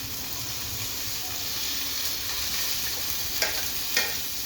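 Cumin, cinnamon, cloves and cardamom sizzle in a mix of oil and ghee for summer khichdi, giving a steady, close, hissing fry with two brief louder crackles near the end.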